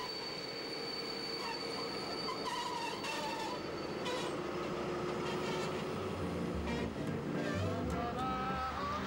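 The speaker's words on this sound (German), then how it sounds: "Einfahrt in den Prager Hauptbahnhof." An SVT 175 express railcar rolls into Prague main station, with steady rumbling wheels and repeated high metallic squeals from the rails, heard fairly close and continuously.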